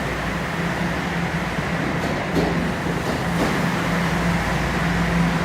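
A noisy train passing in downtown Toronto, a steady loud rumble and roar that holds evenly throughout with a few faint squeaks rising briefly in the middle.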